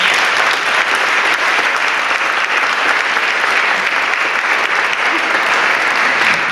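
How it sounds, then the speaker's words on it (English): Loud, sustained audience applause for education leaders at a speech, a thick continuous wash of many hands clapping that stays even from start to finish. "And I think you should give him applause."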